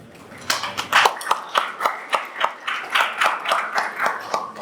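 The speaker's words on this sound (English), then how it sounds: "Let's clap it up for our judges" An audience at a New York pitch night claps for the judges, a steady run of sharp, fairly close handclaps in a loose, even rhythm.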